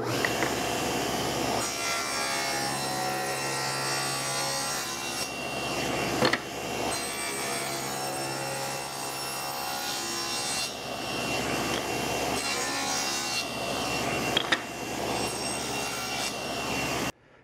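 A hand saw cuts a groove in a scrap wood sanding block, with steady back-and-forth rasping strokes that run close and continuous, pausing briefly a few times.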